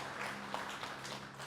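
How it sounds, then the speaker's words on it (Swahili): Audience applause at a district staff training event in Chunya, a steady wash of clapping from a crowd at moderate distance, fairly soft throughout. "Tupige makofi kwa ajili ya zoezi hili."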